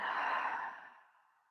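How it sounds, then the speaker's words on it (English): A person breathes out slowly during a meditation class, a soft, close, airy sigh that fades gradually into silence. "and breathing out."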